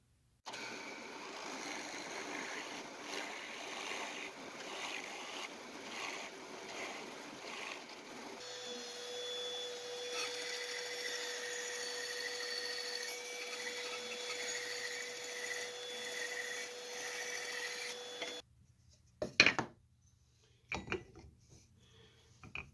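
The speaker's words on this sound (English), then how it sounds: "Now I set the drill press back to 1000 RPM for the 1 1/4 inch Forstner bit" Drill press turning a 1 1/4 inch Forstner bit at 1000 RPM into brass, a steady motor whine with a sustained tonal hum, then a few short sharp clanks and knocks near the end.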